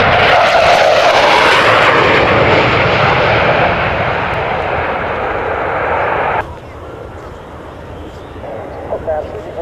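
A jet aircraft with engines of more than 11,000 pounds of thrust each roars past at an air show, loud and broadband at first, then fading after an abrupt drop, with voices talking over it.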